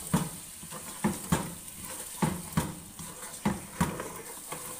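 Garlic and ginger paste frying in a pan, with repeated stirring scrapes at a steady rhythm over a continuous close sizzle.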